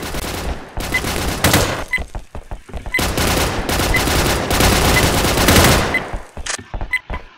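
Gunfire rattles through a Warfare Classic video game match, loud and sustained, with rapid automatic bursts and dense volleys packed closely together and only brief gaps between strings of shots.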